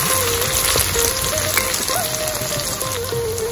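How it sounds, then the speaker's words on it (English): Ginger and garlic fry in hot oil in a wok, giving a steady, close crackling sizzle that continues unbroken with a faint tonal hum in the background. "Once the oil is hot, let's add the ginger and also loads of garlic"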